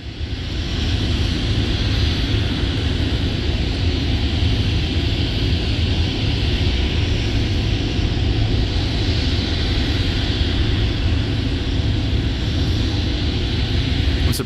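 F-22 fighter jets fly overhead, producing a loud, steady roar of broadband jet noise that holds without a break for the whole stretch.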